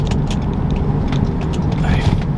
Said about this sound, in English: It's revving out the car though. Like, there's no real reason that the RPMs should be climbing.